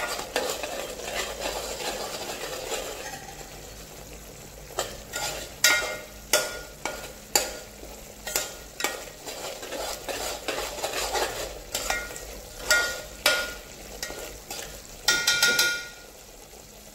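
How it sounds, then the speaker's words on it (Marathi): Kolhapuri tambda rassa masala roasts and sizzles in a pan under a steady fry hiss, with repeated sharp scraping and clinking strokes of a spoon stirring against the metal. "आता यामध्ये पाहू शकता मसाला छान भाजला आहे"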